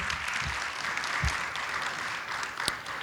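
At a student leadership awards event in Bayonne, an audience claps for the photographer Peter Hastings: a quiet, steady patter of applause from a distance, with a few sharper knocks and bumps.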